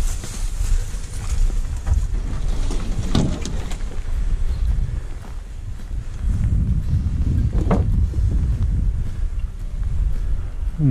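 Strong wind buffets the microphone in a steady low roar on a canoe trip through the Kawartha Highlands, with a few louder gusts and faint water and paddle sounds.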